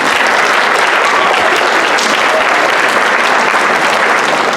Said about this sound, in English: Oh, please clap, please.